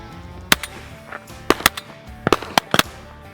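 Sharp, loud shotgun blasts fired through a Banish 12 suppressor on a Texas dove hunt, seven or so reports in short irregular bursts, some in quick pairs, close and outdoors with no talk.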